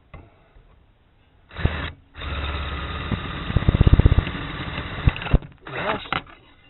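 A power drill fitted with a Ryobi copper-coated bronze oxide bit spins up and bores a hole, a loud close whir with rhythmic grinding pulses as the bit cuts, then winds down.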